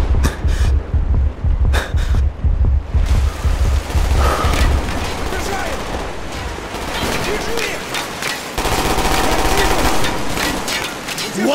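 Rapid gunfire bursts from a Call of Duty: Black Ops firefight on Xbox Series X, loud and dense with booms throughout, sharp shots at the start, and shouted voices mixed in.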